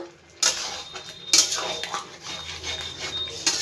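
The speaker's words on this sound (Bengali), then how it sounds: "ঢাকনাটা এবার একটু খুলে দেখবো আর একবার একটু নাড়াচাড়া করে দেবো" A metal pot lid is lifted off mixed vegetables of potato and pumpkin, giving a sharp clank, followed by a spoon scraping and clinking against the pot in a few stirring strokes, fairly close and clear.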